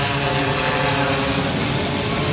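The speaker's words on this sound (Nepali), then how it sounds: "ड्रोन उड़ी रहेगा बस था मसाया।" A medical drone built by final-year biomedical college students flies close by, giving a loud, steady, droning whir of propellers with no break and no talk.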